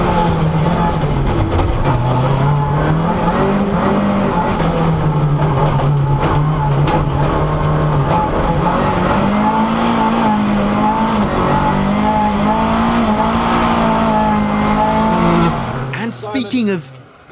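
Rally cars, including a pair of Ford Escorts, race along wet stages, their engines droning and shifting pitch continuously under steady commentary, with a brief burst of revving near the end.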